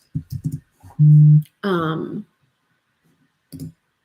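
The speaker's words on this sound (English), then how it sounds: "I'm typing in the emoji bar." Keyboard keys are tapped in a few quick clusters of light clicks, with a voice and a short tonal sound between the bursts.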